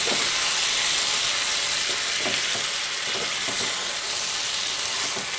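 Chicken frying in a pan with green chillies and spices gives off a loud, steady sizzle and hiss, with soft stirring scrapes at intervals.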